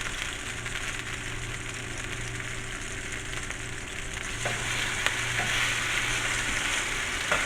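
Salmon fillets fry in a hot pan until blackened, giving a loud, continuous close-up sizzle over a low steady hum, with a few faint clicks and no talking.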